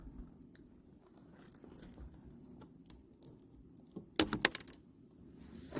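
The plastic tip of a sealant tube for car window glass is snipped with a cutter: a quick cluster of close, crisp clicking snaps in an otherwise quiet space.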